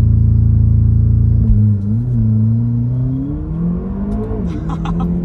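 A McLaren limited to eight units fires up: a loud, close starter burst settles into a rumbling idle, then the engine revs up in rising, throaty pulls.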